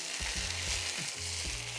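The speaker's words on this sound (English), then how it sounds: "now I'm ready to do the scallion and sizzling oil" Hot oil poured over scallions on baked fish, giving a loud continuous sizzle and crackle with rhythmic low bursts as the oil hits, with no talking.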